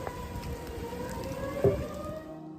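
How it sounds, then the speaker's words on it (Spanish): Tornado warning sirens sound in Jackson, Tennessee, as steady drawn-out tones over a broad roar of wind and storm noise, with a brief louder burst of debris or impact near the end. "En Jackson, Tennessee, sonaron las sirenas mientras que escombros salieron volando durante una alerta de tornado este martes."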